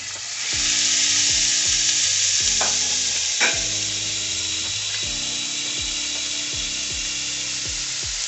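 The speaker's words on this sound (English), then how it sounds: "Saute till it's nice and soft, probably about 3 or 4 minutes." Red pepper, garlic and shallot sauté in a pan, a steady close sizzle with repeated scraping stir strokes in a regular rhythm, no talk.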